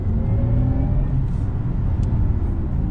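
Porsche Taycan Turbo S electric car accelerating from inside the cabin, a steady, loud synthetic whirring hum with rising tonal lines over a deep low rumble, continuous for a few seconds with no talk.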